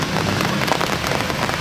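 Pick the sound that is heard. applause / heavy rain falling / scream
heavy rain falling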